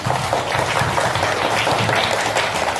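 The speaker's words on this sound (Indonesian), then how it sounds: "tepuk tangan untuk kawannya dulu" A class of students at school claps for a classmate, producing a brief, dense burst of fairly loud, continuous applause with no talking over it.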